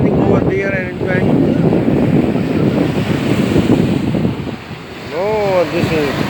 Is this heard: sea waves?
yes